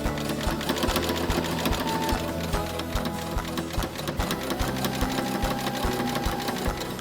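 A sewing machine stitches slowly through the bulky seams of a pillowcase, a steady rapid mechanical chatter with regular thumping pulses, close and continuous with no talking.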